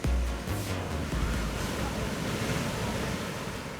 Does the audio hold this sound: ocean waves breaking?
yes